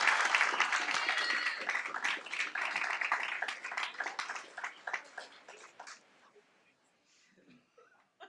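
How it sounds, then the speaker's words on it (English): Applause from the audience at a school board meeting, dense and steady for about six seconds, then thinning into scattered last claps and fading to near quiet. "So please join me in giving them a big round of applause for their success this year."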